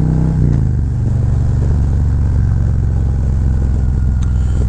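A Harley-Davidson Road Glide motorcycle runs close and loud while being ridden, its engine a steady, continuous drone with a mild rise in revs early on.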